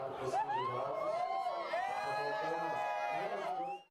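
A crowd at an exam entrance gate cheers loudly, with high shouts and whoops, as a candidate with a broken leg crosses. Many voices overlap continuously before cutting off abruptly.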